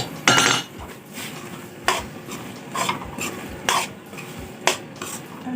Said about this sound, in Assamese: নাৰিকলখন মই ইয়াতে দি ল'ম আৰু দি লৈ মই লৰাই দিম।